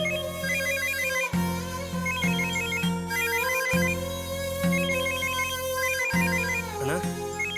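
A phone ringtone plays indoors in a repeating electronic melody, ringing in several bursts with short pauses, moderately loud and alone without talk.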